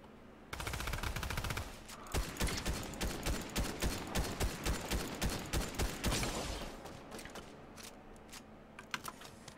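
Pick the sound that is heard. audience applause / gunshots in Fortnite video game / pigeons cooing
gunshots in Fortnite video game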